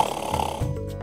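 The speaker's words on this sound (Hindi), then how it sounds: "आपको कभी किसी ने खर्राटे लेते सुना नहीं?" A man snores in a Hindi TV drama scene, one low, rasping snore with a snorting edge, close and fairly loud, with no talk over it.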